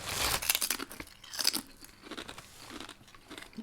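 Crunchy barbecue potato chips with the potato skin left on are chewed up close, giving loud, dense crunching and crackling bites for several seconds with no talking.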